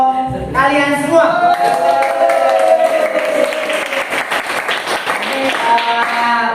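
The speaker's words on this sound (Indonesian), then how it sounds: "Ya, tepuk tangan untuk kalian semua" Audience clapping in a classroom session at the close of a group's livestock pen presentation, a dense burst of many hands that rises quickly and holds steady, close and loud, with no talk over it.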